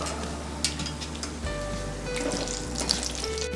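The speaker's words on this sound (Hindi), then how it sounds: "उसी तेल में हम 1 कप सूखा नारियल तेल तल लेंगे।" Chopped dry coconut frying in hot oil in a home kitchen for poha chivda, a steady close crackling sizzle that continues throughout, with no talk.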